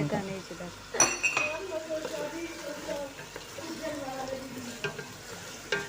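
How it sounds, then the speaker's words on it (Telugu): A spoon scrapes and clinks around a pot as tomato paste is stirred into a sizzling masala, with irregular knocks and scraping over a low fry and some faint voice in the background. "టమాటా పేస్ట్ వేసి బాగా కలుపుకోవాలి"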